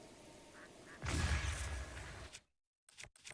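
A quacking bird cry and whoosh in Zelda Breath of the Wild as a bird is shot with an arrow, one loud burst lasting about a second, then a sudden cut to silence and a few brief clicks.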